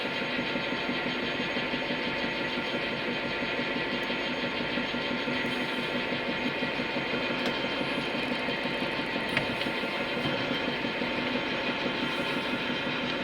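A Harrison M250 metal lathe, powered on 400 volts, runs out of gear with a continuous dense mechanical whir and gear rattle, steady and close throughout.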